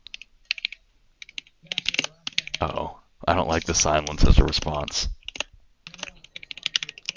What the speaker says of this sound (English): He's typing on a keyboard.